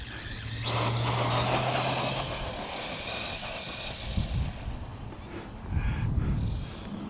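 An Arrma Granite Voltage RC truck converted to a brushless motor whirs and buzzes as it drives over rough ground, with the motor note rising and falling in bursts. It sounds fairly close and loud.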